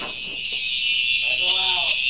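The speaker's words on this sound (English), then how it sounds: "I think a fire alarm is going off in our dorm at the moment." A dorm fire alarm blares with a steady, piercing electronic tone that runs through the whole moment, while people talk over it.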